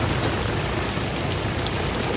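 Heavy rain falls outdoors as a steady, dense hiss of drops hitting surfaces, close and unbroken, with no voices.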